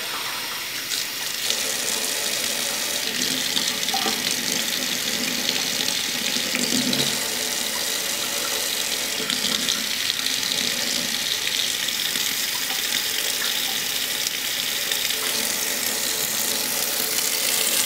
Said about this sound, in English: Don't let the water pound it too hard.